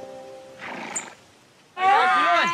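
A horse at a horseback riding stable gives a loud, close whinny near the end, after softer, muffled stable sounds.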